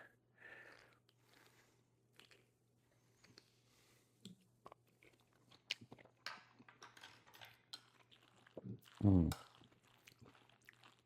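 Someone takes a taste of homemade egg macaroni salad, with faint chewing, soft cutlery clinks and one louder crunchy clatter near the end, all quiet and close over a low background hum.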